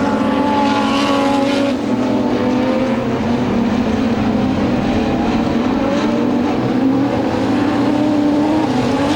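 Modified sedans race at Premier Speedway Warrnambool, a loud and continuous roar of several engines that holds steady without a break and with no talk over it.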